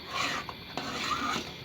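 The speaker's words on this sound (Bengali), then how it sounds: "দুধটা নেড়ে চেড়ে নিচ্ছি।" Milk mixed with powdered milk is stirred in a pot for homemade yogurt, giving a few soft scraping and rubbing strokes close by, fairly quiet, with no talking.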